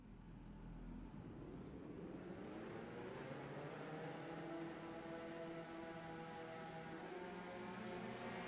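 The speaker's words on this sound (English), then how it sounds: "the engines should fire at any second" Race car engines in a racing video game fire up and build into a loud, continuous roar with rising pitch, several cars together at a stock car race at Kentucky, with no talk.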